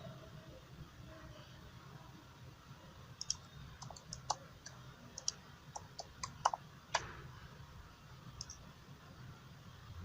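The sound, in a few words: mouse clicking the Go button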